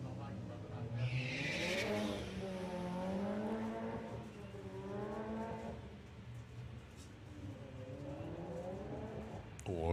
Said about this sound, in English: Oh, sounds like Regan's clutch is about to give out there.